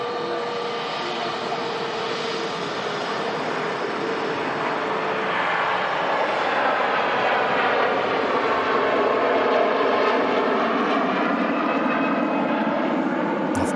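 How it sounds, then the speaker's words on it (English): A Virgin Atlantic Airbus A330 airliner roars on takeoff at Manchester Airport, a broad steady jet engine rumble and whine that swells slightly louder as it departs, heard from a distance outdoors. "Off goes that Virgin Atlantic 330. Mega departure."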